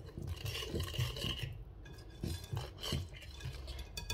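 A whisk stirs and scrapes through brioche dough in a bowl, a close series of rhythmic rasping strokes with a few light metallic clinks against the bowl.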